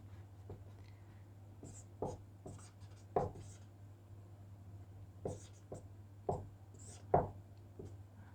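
Hindi is written on a board, with intermittent scratchy strokes and sharp taps of the writing tool, fairly faint, over a steady low background hum.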